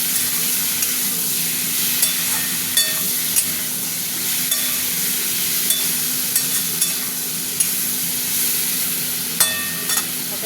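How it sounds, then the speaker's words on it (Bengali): Chopped tomato with salt and chili powder frying in a pan for a prawn, eggplant and potato curry makes a steady, fairly loud sizzle, punctuated by frequent light scrapes and clicks of a stirring spatula throughout. "একটু ভাজা ভাজা করবো।"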